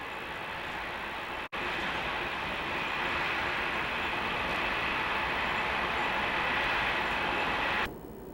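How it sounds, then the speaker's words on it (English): Interior rumble of a TGV high-speed train running between Paris and Dijon, a steady broad roar with a brief dropout near the start and a slight change in tone near the end. "on a TGV between Paris and Dijon in France"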